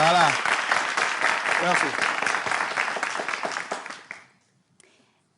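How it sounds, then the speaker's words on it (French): A television studio audience in a French-language talk show applauds steadily for several seconds, with a voice speaking over the clapping before it fades out into near silence. "On s'applaudit?"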